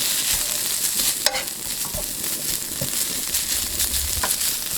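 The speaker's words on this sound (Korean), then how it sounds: "더 고소하게 하기 위해서 볶아서 넣을 겁니다. 살짝 볶아주세요." Seasoned dried radish greens (siraegi) stir-fried in a pan give a steady close sizzle and light crackle, with soft scraping and stirring strokes from a utensil throughout.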